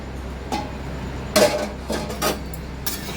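Metal clatter as a lid is set on a cooking pot of boiling pumpkin, a few short sharp knocks and clanks spaced over three seconds, the loudest near the middle, with no talking.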